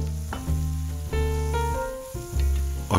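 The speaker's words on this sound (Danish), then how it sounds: "Og det smørsteger jeg." A slice of white bread sizzles as it fries in butter in a pan, a close, steady crackle of frying that sits under prominent sustained tonal music for the whole stretch.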